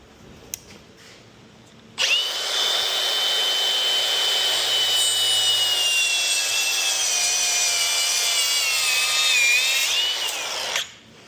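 A rubber AN fitting hose clamped in a press is cut with a saw, giving a steady, loud rasping cut that runs about nine seconds and then stops, with no talking.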